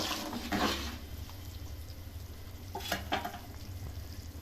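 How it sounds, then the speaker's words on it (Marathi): A pot of water for Marathi masala bhaat comes to a boil on a gas stove, giving a steady bubbling roar with a low burner hum and a few louder splashy bursts, close and continuous. "तर हे बघा उकळी आलेली आहे"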